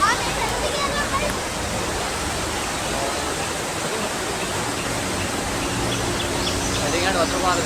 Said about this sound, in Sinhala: පාර ඇලක් උතුරනවා.